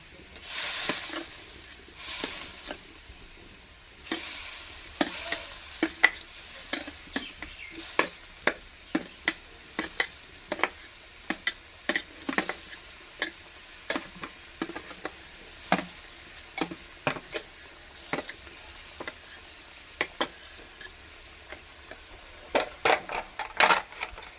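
Pointed gourd and potato pieces fry in a pan for a Gobindobhog rice pulao, producing a low continuous sizzle under frequent sharp spatula clacks and scrapes that repeat irregularly, close and moderately quiet.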